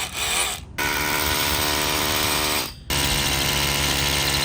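A heavy power drill rig bores into the ground to install a skate-spot flat bar, a loud, steady grinding motor drone that cuts out twice for brief pauses before starting up again.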